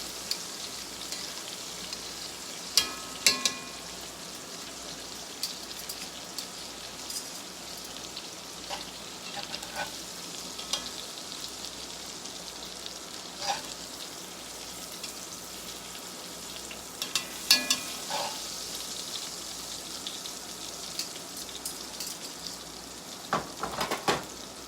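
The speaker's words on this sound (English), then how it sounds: "I'm going to let that one sear for another minute or so" Chicken thighs searing in a pot, a soft steady crackle with scattered pops and spits throughout, fairly quiet and with no talking.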